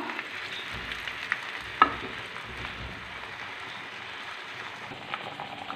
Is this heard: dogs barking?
no